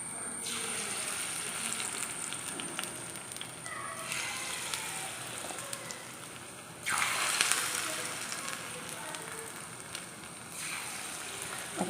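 Spoonfuls of beef unniyappam batter go into hot oil in an unniyappam pan, producing a steady, dense sizzle and crackle with brief louder surges, no voices.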